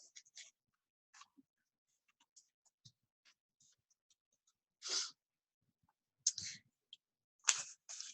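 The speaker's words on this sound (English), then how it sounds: "Okay, so I'm going to type." Computer keyboard typing while text is entered into a flyer document, heard as sparse, quiet key clicks with scattered taps and a few louder bursts near the end, otherwise near silence.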